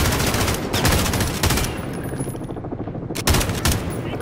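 Rapid bursts of automatic gunfire in the Call of Duty: Modern Warfare campaign, loud and close, with a short pause before the firing resumes; no talking.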